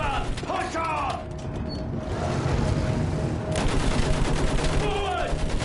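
Machine gun fire in the World War I shooter Battlefield 1 rattles in dense bursts amid mechanical clatter and battlefield noise, with faint voices in the mix.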